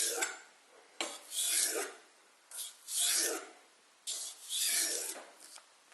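A knife blade is drawn across a sharpening stone in long rasping strokes, about four separate passes over six seconds with short pauses between them, close and clear with no talking.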